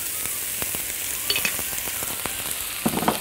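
Onion fries in oil with crumbled stock cubes, giving a continuous close sizzle, with scattered crackles and a few light stirring clicks, no talk.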